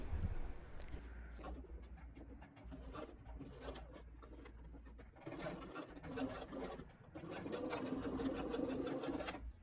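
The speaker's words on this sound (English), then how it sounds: "Join the ends and sew them together." Sewing machine stitching the joined ends of a knit garment's neckline band, running in several bursts of rapid mechanical whirring with brief pauses between, close and fairly loud.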